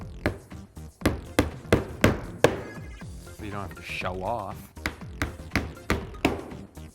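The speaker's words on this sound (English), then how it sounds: "why don't I glue and you hammer for a bit?" A hammer drives small finish nails into reclaimed wood with a run of sharp, evenly spaced close knocks, pausing while people talk, then resuming in a brisk steady rhythm.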